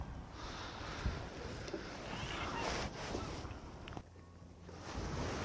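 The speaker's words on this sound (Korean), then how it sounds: "아유, 바람." Wind gusts across an outdoor pay-fishing pond in Yeoju, Gyeonggi, with a steady broadband roar and buffeting against the microphone that rises and dips, close and persistent.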